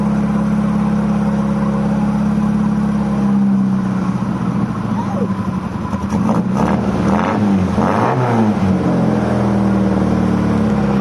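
A 35-year-old Ford Fiesta MK2 engine that struggles to idle runs loudly and close up. Its mid-pitched drone swells and dips as it is revved over several seconds.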